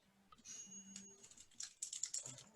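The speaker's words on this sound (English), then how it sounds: "I'm typing that into the chat for that request" Quick, uneven keystrokes on a computer keyboard as someone types a message into an online chat, close and fairly quiet, with short bursts and pauses and no talking.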